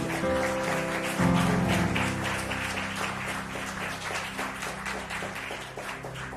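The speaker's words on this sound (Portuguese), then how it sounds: "Pode aplaudir a Jesus com alegria" A church congregation claps together in a thick, continuous burst that slowly thins, while sustained musical tones ring underneath.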